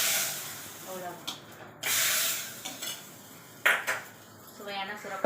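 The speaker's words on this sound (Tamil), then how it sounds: "இந்த பெருங்காயத்தை போட்டு நெக்ஸ்ட்டு கருவேப்பிலை போட்டுருவோம்" Asafoetida and curry leaves tempering in a pan while making bottle gourd kootu: a low sizzle runs under several sharp clinks and scrapes of a utensil against the metal pan, close and fairly faint, with no talk.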